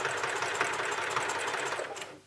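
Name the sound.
sewing machine stitching across a bag strap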